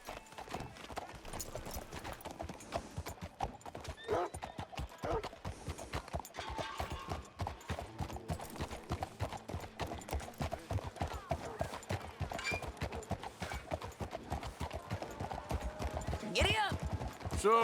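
Horse galloping in Red Dead Redemption 2, a rapid, steady clip-clop of hooves with snorts and the odd whinny, fairly quiet and continuous, with voices talking over the riding at times.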